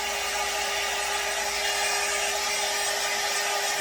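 A hair dryer blows heat onto the part of a blonde full monofilament wig, giving a loud, constant close-up whir and rush of air with a steady motor tone and no voices.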